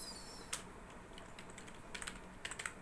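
Quiet, close keystrokes on a computer keyboard as code is typed, coming in irregular short bursts with brief pauses between them.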